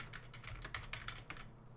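Rapid typing on a computer keyboard, a close string of light clicking keystrokes with a short pause near the end.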